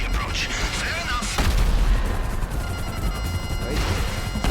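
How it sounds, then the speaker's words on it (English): Bursts of automatic gunfire and impacts ring out during a Cayo Perico heist setup mission in GTA Online, loud and dense, with sharp cracks layered over a constant rumble. "I deduce from the sound of gunfire that you have not gone for the stealthy approach."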